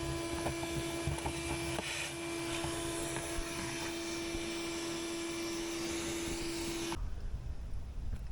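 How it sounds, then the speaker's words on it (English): A vacuum cleaner roars steadily up close with a whining tone and occasional rattles of foam debris being sucked in from a Porsche 996 air duct, then the motor cuts off near the end. "So I'm going to vacuum that all out"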